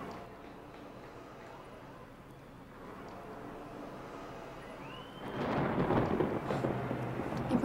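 Low rolling thunder rumbles ahead of a rainstorm, faint and distant at first, then swelling into a louder, closer crash near the end, with no one speaking.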